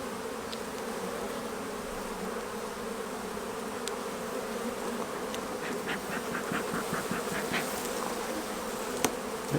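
Honeybees buzz steadily around an open hive under inspection on a fine day, a dense continuous drone with individual bees passing close, no voices.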